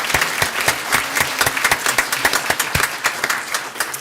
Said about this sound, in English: give her a clap for her service